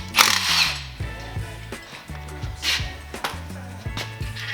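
A ratchet works a bolt loose from a Trackchair AXIS wheel, giving quick rhythmic clicking and metallic ratcheting strokes in short bursts, close and moderately loud, with no talking.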